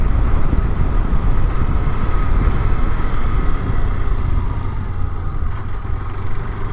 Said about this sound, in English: that's a second gear takeoff from a corner